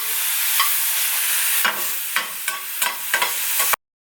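Homemade burger patties frying in a pan give a steady sizzling hiss. Several sharper scraping or stirring knocks cut in toward the end before the sound abruptly stops.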